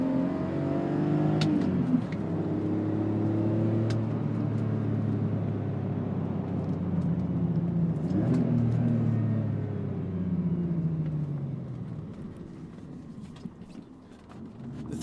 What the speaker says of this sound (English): rev matching in an SUV and then like banging limiter and jamming it into 3rd gear